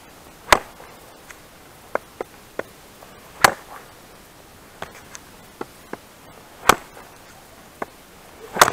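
A Vovkulaka multipurpose field tool with a 3 mm thick blade chops wood in sharp, irregular strikes, a dozen or so crisp knocks of varying strength spread across the stretch with quiet gaps between.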